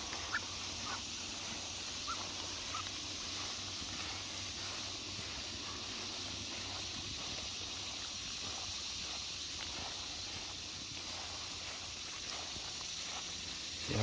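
Muscovy ducks moved out onto fresh pasture give soft intermittent quacks and breathy hisses over a steady outdoor hiss, fairly faint throughout.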